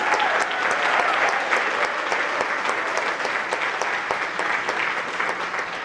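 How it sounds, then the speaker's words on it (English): Sustained applause from the audience at a high school National Honor Society induction ceremony, a dense, steady wash of many hands clapping together that tapers slightly by the end. "please give yourselves a round of applause"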